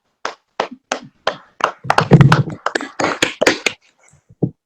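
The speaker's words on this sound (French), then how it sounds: "vous pouvez aussi vous applaudir" Audience members at the end of a teleworking webinar applaud over a call: scattered, uneven hand claps and taps, fairly close, mixed with brief voices.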